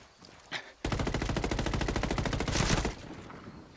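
Automatic weapons rattle in the Ghost Recon game, a brief burst, then a sustained rapid stream of shots for about two seconds, loud and close before cutting off into quiet ambience.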